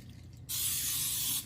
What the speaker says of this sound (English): I'm going to get spray oil and I'm going to pull this to the side and spray the side of my bowl